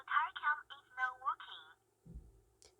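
A Yakola Y6 360° dashcam powering up plays a clear, melodic electronic voice-like prompt of several tones, followed by a soft low thump and a brief high blip.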